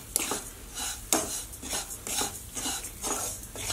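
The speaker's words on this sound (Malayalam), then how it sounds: "ഇത് ഒന്ന് മിക്സ് ചെയ്തിട്ട് ഒന്ന് മെൽട്ടായിട്ട് വരണം" A spoon stirs sugar into a flattened rice and grated coconut filling for stuffed pazham pori, making rhythmic scraping clinks against the pan, close and steady with sharp metallic taps.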